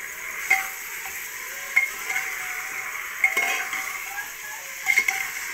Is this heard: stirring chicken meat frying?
yes